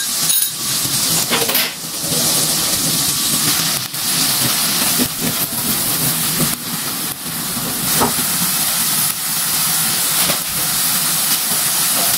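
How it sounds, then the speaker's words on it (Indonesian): Steady loud sizzling and hissing of chili paste frying in hot oil, with faint crackles and pops throughout, close and continuous. "sekarang kita masak bumbu cabai rawitnya"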